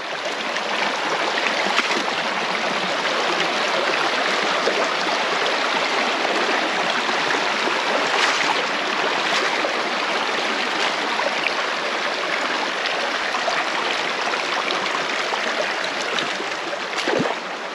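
A spring-fed creek in Sycamore Canyon burbles and rushes steadily up close, a constant bright water flow with small splashy fluctuations and no voices.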